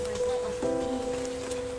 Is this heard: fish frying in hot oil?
no